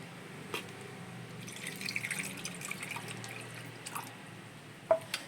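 Tamarind water being poured into a simmering choora (tuna) fish curry with mango, a soft, faint trickle and dripping of liquid that runs for several seconds in a quiet kitchen, with a few small clinks.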